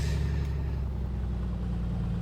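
Piper Comanche 250 piston aircraft engine in a flight simulator game, running at a steady low, throbbing idle just after start-up, loud and close, continuous with no talking.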